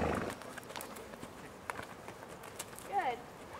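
A horse ridden on a trail at Marble Mountain clops along, with faint, irregular hoof thuds under background sounds and a short bird-like chirp near the end.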